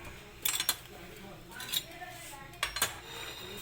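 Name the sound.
taking aloo kulcha out of pan into a dish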